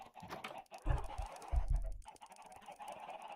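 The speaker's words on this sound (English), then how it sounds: "My brother's been farming chickens." Chickens clucking on a Minecraft farm, a few short low clucks in a quick cluster amid soft clicking that sounds like keyboard typing.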